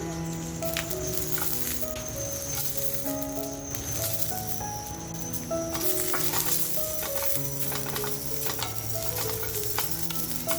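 Dried red chillies frying in a pan for mutton kharda: steady sizzling and crackling with bursts of popping and occasional stirring, close up and continuous for about ten seconds, while a voice talks quietly underneath.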